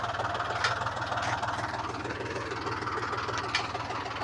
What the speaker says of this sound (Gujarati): આ અમારો ટ્રેક્ટર ચાલતા હે